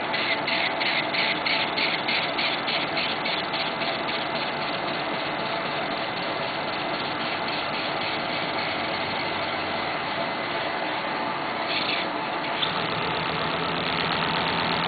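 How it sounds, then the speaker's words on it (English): Player piano air motor running steadily, a continuous pumping, chugging drone with a fast repetitive pulse and a brief change in tone partway through, loud and close with no talk. "Sometimes just operating the motor for an extended period of time, like we're going to be doing right now"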